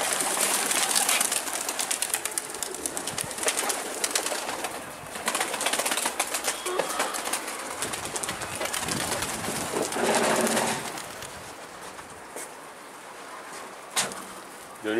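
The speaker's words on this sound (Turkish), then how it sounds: "Bizim kuşlar da uçtu." Pigeons coo softly and repeatedly nearby, with a few bursts of wing flapping as birds take off, over steady outdoor background noise.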